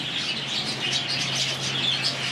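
Birds in an aviary housing diamond doves chirp and tweet in a busy, steady chorus, with small bird calls repeating over a low hum.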